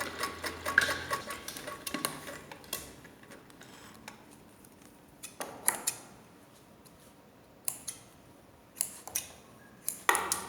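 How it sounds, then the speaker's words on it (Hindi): Cloth pieces for a baby frock are run through a sewing machine in short bursts of stitching, quiet and close, separated by pauses filled with small clicks and handling sounds. "दोनों पीस में हम ऐसे ही सिलाई लगाएंगे"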